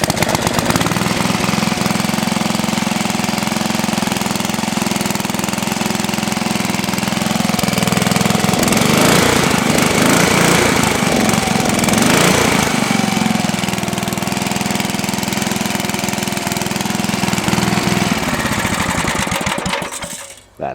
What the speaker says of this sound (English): I've just finished rebuilding the carburetor on this thing, so it should run.